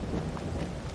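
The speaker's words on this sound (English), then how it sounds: "This rain is miserable" Steady rain falling in the video game Farming Simulator 22, a dense continuous hiss with low rumbling underneath, heard alone without talk.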